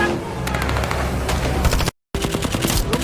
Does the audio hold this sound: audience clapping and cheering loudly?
no